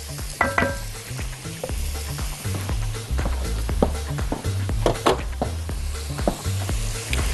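Chicken simmers in a pan with soy sauce and water, a loud close sizzle and bubbling broken by sharp utensil clinks and scrapes against the pan at an irregular pace.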